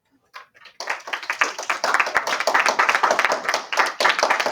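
Applause from a classroom audience in a math lesson: after a brief quiet start, many hands clap in a dense, sustained burst that stays loud to the end.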